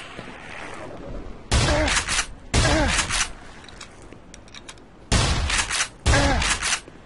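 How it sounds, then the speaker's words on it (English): Shotgun blasts in the Black Mesa video game: four loud, heavy booms in two pairs, each with a short ringing tail over a low background hum of the game. "I just obliterated my shotgun ammo"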